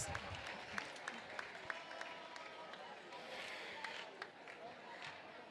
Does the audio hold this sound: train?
no